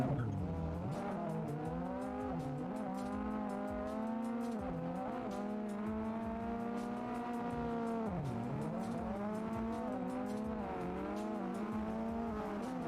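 A small drifting car in Assetto Corsa whines with a rising and falling engine tone while its tires squeal in long sustained slides, loud and continuous.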